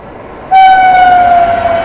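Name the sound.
Awadh Assam Express train passing at a crossing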